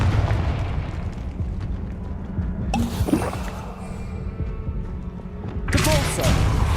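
A Confringo blasting spell in the game Hogwarts Legacy erupts in loud, rumbling bursts of explosive noise over a constant heavy game soundscape, with voices speaking throughout.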